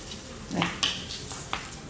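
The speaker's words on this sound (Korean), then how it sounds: "스팸 볶고, 자, 마늘 볶고요. 양파 볶고." Spam, garlic and onion frying in a butter-greased pan, a low steady sizzle with a few sharp scrapes and clinks of a utensil stirring against the metal, close and fairly quiet.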